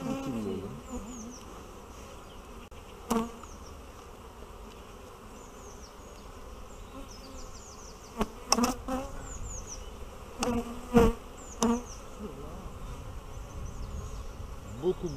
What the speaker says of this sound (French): des abeilles, des belles abeilles, riches, bien pleines.